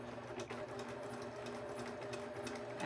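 A sewing machine runs a zigzag stitch to join two pieces of butted batting, a quiet, even mechanical whirring that continues without a break.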